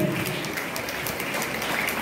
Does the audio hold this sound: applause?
yes